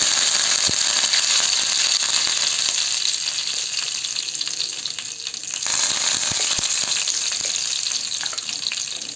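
Steady, loud crackling hiss of tempering spices, bay leaves and curry leaves sizzling in hot oil, continuous throughout with occasional sharp pops, no voices.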